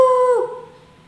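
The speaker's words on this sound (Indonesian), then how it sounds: "Setiap pagi menjelang subuh, Jago dengan setia mengeluarkan suara kokoknya." A single loud, close rooster crow, a bright sustained tone that bends and fades quickly into quiet.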